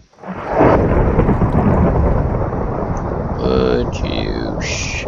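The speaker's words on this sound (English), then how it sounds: "Shut up, lightning." Thunder in Minecraft rolls loud and long, a deep continuous rumble with rain hiss that swells up and persists, with brief game noises layered near the end.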